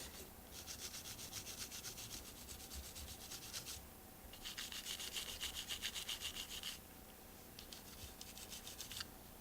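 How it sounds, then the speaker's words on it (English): Brush scrubbing cleaner onto the contact points of a Beretta 92FS pistol, a steady rapid scratchy rubbing in three long bursts separated by brief pauses, close and fairly loud with no talk. "You get the cleaner on there on these contact points, scrub them down good."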